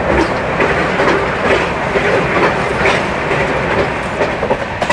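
The Venkatadri superfast Express, Chittoor to Kacheguda, rumbles along near Tirupati West station with a loud, continuous roar and steady clickety-clack of wheels over rail joints, heard from on board with no talking.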